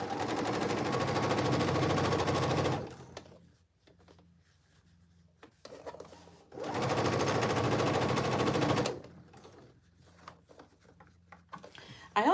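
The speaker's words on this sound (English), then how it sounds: "you're going to top stitch on the pocket" A sewing machine runs in two steady bursts of about three seconds each, top stitching the pocket of homemade cargo pants, with quieter handling sounds in the gaps between.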